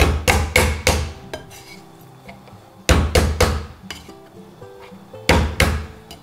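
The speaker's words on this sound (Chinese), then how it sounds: "接着直接给它拍破，用刀直接给它拍碎就好了。" Sharp, loud thumps of a kitchen knife blade smashing an ingredient on a cutting board, struck in quick bursts of two to four blows separated by short pauses, each with a brief ringing tail.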